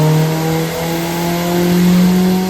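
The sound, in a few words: 450HP Ford Focus ST engine revving under boost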